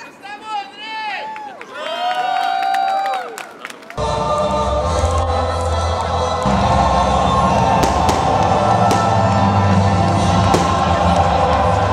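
Large crowd of football fans cheering and chanting at an outdoor fan zone in Sukhanovo Park, a loud continuous roar with whistles, following music at the start.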